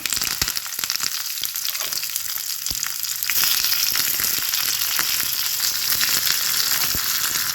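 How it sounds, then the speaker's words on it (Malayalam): Mustard seeds crackle and pop steadily in hot oil while tempering coconut chutney, a dense continuous sizzle with sharp scattered snaps, close and fairly loud. "കടുവ് പൊട്ടിക്കഴിഞ്ഞു"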